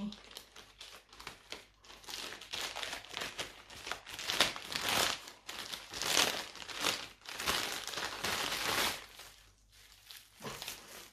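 Plastic crinkles and rustles in repeated bursts, close and fairly loud, as bags are handled and pulled apart.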